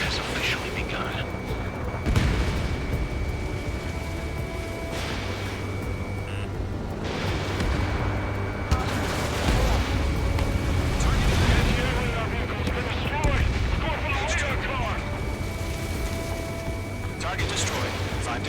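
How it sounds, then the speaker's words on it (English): In Ace Combat 7: Skies Unknown on Nintendo Switch, anti-aircraft guns pound away with rumbling explosions under steady jet engine noise, while radio voices talk over the barrage. "They've got their anti-air guns aimed right at us"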